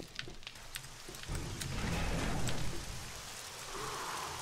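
Rain falling in the 7 Days to Die video game, a soft wash of patter on surfaces that swells after a few faint knocks, fairly quiet and steady with no voices.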